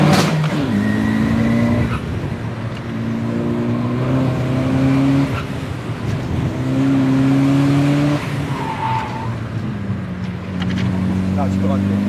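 A diesel VW Golf Mk6 GTD revs hard nearby in repeated rising and falling bursts with crackling pops, loud and rough, while people talk over it.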